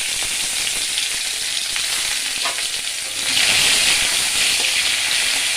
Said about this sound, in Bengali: এবার দিলাম পেঁয়াজ কোচানোটা।